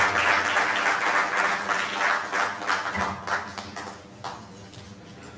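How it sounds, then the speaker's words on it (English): Audience applause at an evening welcome during an official working visit of an agricultural research council executive secretary, a dense steady clapping that gradually thins out over several seconds. "Once more, you can give the ED a round of applause."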